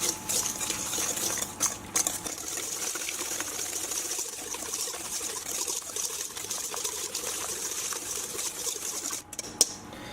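Eggs are mixed into unicorn biscuit dough by an electric mixer, giving a steady whirring hum with a wet, churning texture, close and continuous, with a short clatter near the end.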